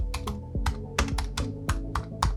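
Keys clatter in quick, uneven bursts on a computer keyboard as text is typed and edited in Adobe Illustrator, close and fairly loud, with no voices.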